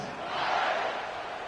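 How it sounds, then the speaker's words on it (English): A steady, diffuse stadium crowd murmur fills the air after a touchdown in an American football video game, a continuous even roar with no distinct voices standing out. "this crowd is buzzing after that last score"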